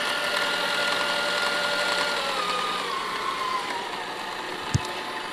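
An electric mixer whirs steadily at close range while beating chocolate swirl cheesecake batter as sugar is slowly added, its pitch drifting slightly, with one brief knock near the end.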